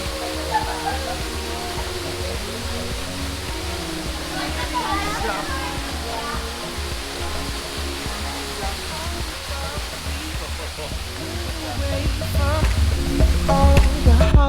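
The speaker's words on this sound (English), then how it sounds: "All the water coming out from there." Water seeps and trickles out of weeping rocks at a Sunshine Coast spot, a steady broad rush that swells louder near the end, with faint voices underneath.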